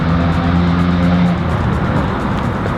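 Loud cars pass close by on a street, a dense roaring engine rumble that fills the whole stretch without pause and eases slightly toward the end.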